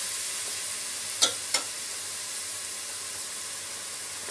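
Garlic sizzles in olive oil in a pan as a base for pasta sauce, giving a steady soft frying hiss throughout with two brief sharper crackles near the start.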